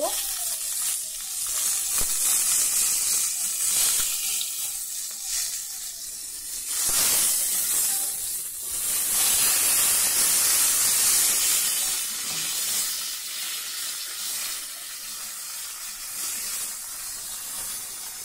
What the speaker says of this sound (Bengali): ভাত বসিয়ে দিয়েছি, ভাত ফুটছে